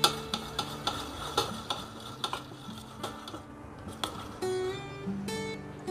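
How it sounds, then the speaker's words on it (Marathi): A spoon beats ghee in a bowl until it turns white while preparing chandrakala or gujiya dough, making a steady, rhythmic run of close scraping taps and knocks. "चमच्याने छान असं पांढरं होईपर्यंत फेटून घ्यायचं आहे तूप।"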